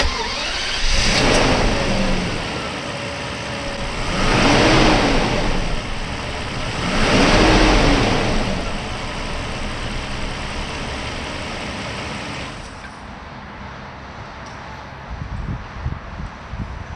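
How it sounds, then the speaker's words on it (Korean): A Mercedes-Benz W140 S600 with a 6.0-litre V12 cranks and fires, swells through a couple of revving surges, then settles into a smooth, steady idle, loud and close with no talk. "12기통짜리 엔진 하면은 다른 건 모르겠고, 시동 걸리는 때의 소리가 좀 달라요."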